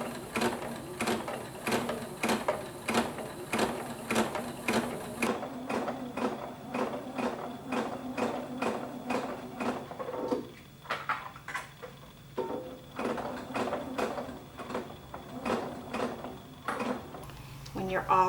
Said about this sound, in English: Sew a couple stitches and pivot, and sew a couple more stitches and pivot.